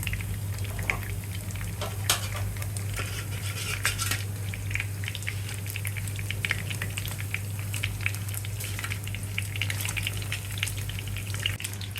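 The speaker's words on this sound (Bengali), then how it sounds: "মাছ ভাজা অলমোস্ট ডান। এবার আমরা একটা একটা করে মাছগুলোকে তুলে নেব।" Fish frying in mustard oil in a frying pan for a Bengali rui fish kalia, with continuous sizzling under repeated clinks and scrapes of a utensil against the pan, close and steady.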